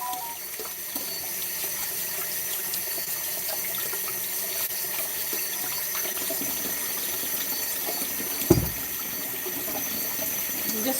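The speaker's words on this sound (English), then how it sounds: "I'm just scrubbing potatoes" Potatoes are scrubbed under a running kitchen tap, with a steady hiss of flowing water throughout and a brief knock partway through.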